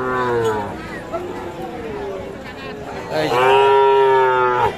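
Young bull calves about four months old lowing at a busy outdoor cattle market in Dinajpur, Bangladesh, with repeated drawn-out moos up close over a background of crowd chatter.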